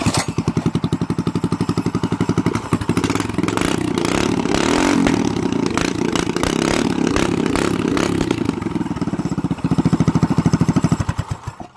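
A minibike engine with a custom exhaust idles with a fast, throaty putter, briefly swelling louder and rougher in the middle before settling back to a steady chug.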